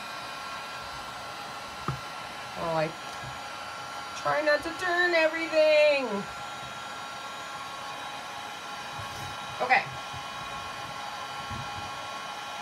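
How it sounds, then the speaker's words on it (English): Heat gun running steady and fairly loud after use on ink set on a faux leather surface, a constant whooshing blow lasting throughout while a person speaks briefly over it. "Sorry about the noise up here because the heat gun has to cool off."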